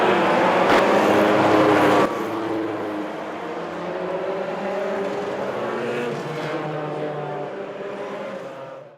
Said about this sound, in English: Roll out your pace cars. Pace cars, rolling them out.